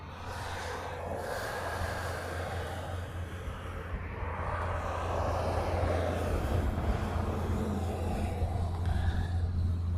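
A C-130 military transport aircraft moving near a runway in Hawaii, heard as a steady, low engine drone that grows gradually louder, fairly distant and without speech.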